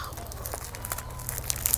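Plastic shopping package from an online haul being torn open by hand without scissors, giving brief crinkling and ripping bursts over a steady low hum, close and fairly quiet.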